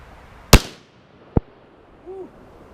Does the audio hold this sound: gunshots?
yes